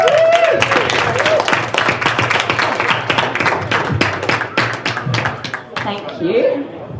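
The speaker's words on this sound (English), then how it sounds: "Everyone give him a round of applause." Applause from a convention audience at a stage hypnosis show, close sharp clapping from a smallish crowd that tapers off, with chatter and a few voices near the end.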